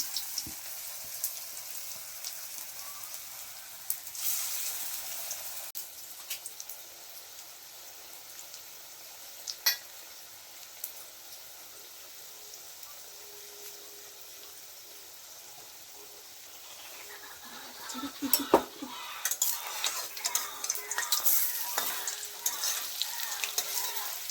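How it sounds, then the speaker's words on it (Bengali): Chopped bitter gourd frying in a pan, a steady soft sizzle throughout with occasional stirring scrapes and pressing clicks, louder toward the end. "এরকম করে ভাজতে হবে, একটু চেপে চেপে দিতে হবে"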